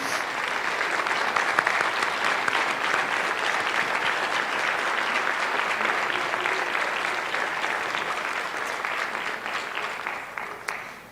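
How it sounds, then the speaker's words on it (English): A middle school crowd gives a long, dense round of applause for eighth grade students at an academic awards ceremony, steady and full for about ten seconds before tapering off at the end. "one more round of applause for everyone?"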